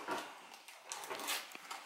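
A dog gives a few short, soft whimpering yips and whines in a quiet room, close by and brief.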